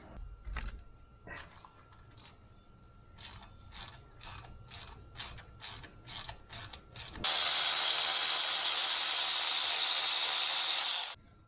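A flex-head ratchet turns bolts on the oil filter housing of a BMW 335i N54 engine, giving a run of rapid, evenly spaced clicks, then a sudden loud, steady hiss that lasts several seconds.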